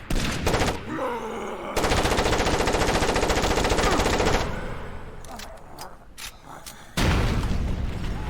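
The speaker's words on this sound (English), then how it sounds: "You can still get ripped off though with the enemy coming and shooting you at close range like so." In the video game Far Cry Instincts Predator, an enemy fires at close range: sustained, loud bursts of automatic gunfire with rattling mechanical clatter and short gaps between the volleys.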